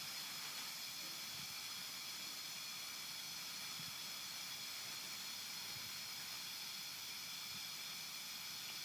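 A blowtorch flame heats a copper tube for bending, giving a loud, continuous broadband roaring hiss that stays even and close throughout, with no voices.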